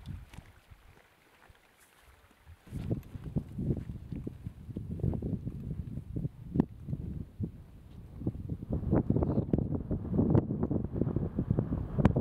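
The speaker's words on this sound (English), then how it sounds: "it's cold and windy" Cold wind buffeting a microphone on a mountain peak, Bison Peak, under cloud: steady low rumbling gusts that build after a quiet start and stay loud and close, with no talking.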